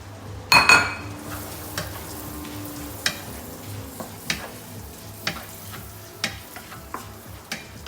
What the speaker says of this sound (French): Là, je commence à caraméliser mon beurre.